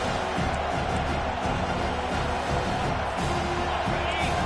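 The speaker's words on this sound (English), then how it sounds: "Decibels rising as the crowd gets behind this defense on 3rd down." A roaring stadium crowd in the game College Football 25 builds on a 3rd down, a thick steady din of cheering that continues under a commentator's voice.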